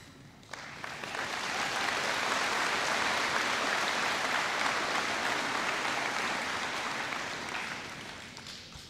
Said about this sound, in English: please join me in applauding their commitment to community service.